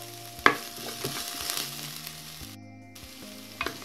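Onion frying in a heated multicooker bowl, a continuous close sizzle with a sharp clatter at the start, a brief dropout midway and another small knock near the end.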